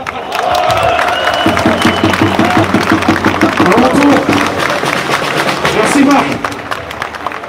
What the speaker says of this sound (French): Allez, encore, applaudissez Marc.